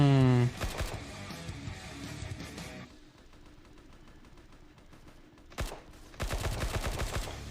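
Gunfire in the blocky online shooter Blockman Go, with a loud burst of rapid shots at the start, a quieter stretch of game ambience, then a sharp single shot and another dense burst of firing near the end.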